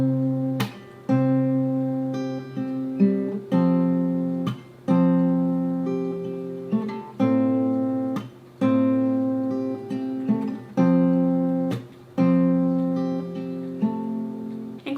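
An acoustic guitar plays the fingerpicked pattern of a song slowly, with evenly spaced plucked notes ringing over each chord and regular chord changes, alone and clear without talk.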